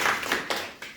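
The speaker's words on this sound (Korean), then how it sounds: "박수 한번 주세요." Brief burst of audience applause from villagers at a Sejong mayor's community visit in Bugang-myeon, a dense wash of hand claps lasting about a second.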